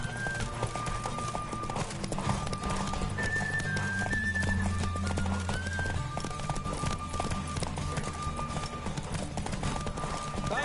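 A horse gallops in The Witcher 3: Wild Hunt video game, with steady, rapid hoofbeats under a continuous musical score, with a few sustained whistling tones drifting above.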